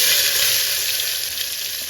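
Onions sizzle steadily in a hot pan for a biryani, a loud, even frying hiss that continues close up throughout.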